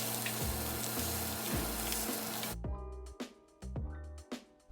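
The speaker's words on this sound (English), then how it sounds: "So I started frying all the meat together." Sausages and meat fry in a pan for meaty spaghetti, with a steady sizzle that gives way to sparser crackling and a few clanks of utensils, close by.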